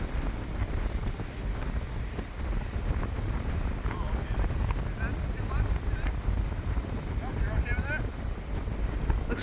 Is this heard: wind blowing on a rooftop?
yes